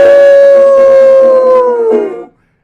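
A voice imitates a dog howling in a sung story, one long, loud wavering howl that slides downward and then cuts off into silence.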